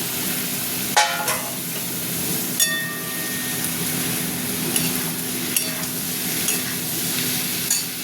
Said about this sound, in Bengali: পেঁয়াজটা অনেকটা ভাজা ভাজা হয়ে গেছে, এবার আমি দিয়ে দিচ্ছি আলুটাও ভাজবো।